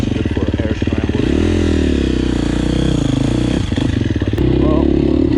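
A KTM 350 SXF dirt bike engine runs close by with a loud, rapid single-cylinder chatter, rising and falling through revs with clattery mechanical noise.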